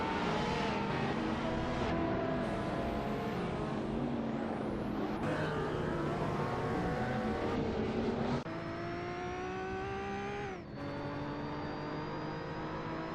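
Supercars racing around Long Beach in a racing simulator game, with layered engine whine from several cars at once, pitch sweeping up and down through gear changes, loud and continuous with no talk.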